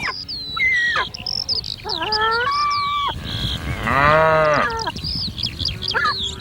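Grey cattle on open ground lowing in several long, drawn-out moos, one after another at moderate distance, with bird calls and outdoor noise around them.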